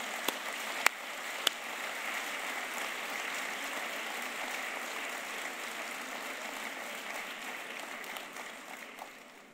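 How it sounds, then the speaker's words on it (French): Audience applause at a political speech in La Ciotat, a soft, steady wash of many hands clapping at a distance, with a few sharp louder claps near the start. "Je vous remercie de bien vouloir les applaudir pour tout ce qu'ils apportent à la Ciotat."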